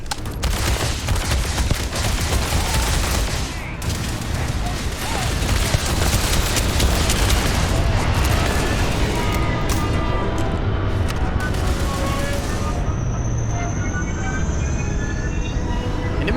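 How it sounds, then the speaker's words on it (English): Sustained automatic gunfire in a Starfield firefight, a dense, crackling barrage of shots that continues almost without pause and is loud throughout, with a voice occasionally speaking over it. "Open fire!"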